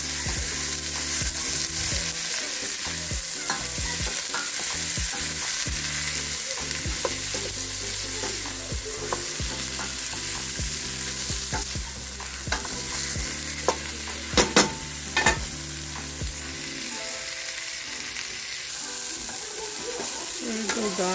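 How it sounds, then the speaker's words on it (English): Vegetable kurma frying and being stirred in a pot, a continuous sizzle broken by occasional utensil clinks and scrapes, with brief talk in the background. "I'm going to give it a stir."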